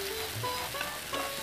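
Ginger paste and chopped garlic sizzle steadily in a hot pan while a Bengali fish curry is made, a soft continuous frying hiss with faint stirring clicks, heard alone without talk.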